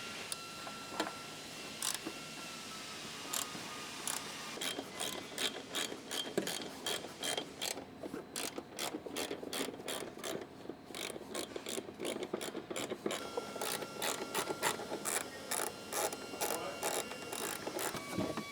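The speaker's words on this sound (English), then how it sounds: "It's a threaded stud with a nut, so you have to remove all 8 of those nuts before these factory bars can come off." A hand ratchet loosens the threaded-stud nuts holding factory roof rack bars on a Subaru Outback, rapid close clicking in bursts of quick strokes, continuous and alone without talk.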